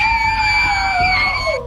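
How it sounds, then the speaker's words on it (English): A sudden, loud, sustained high-pitched scream rings out alone for almost two seconds during a night-time ghost-hunting scare, steady and piercing before trailing off at the end. "A sudden loud scream sends the girls running in terror."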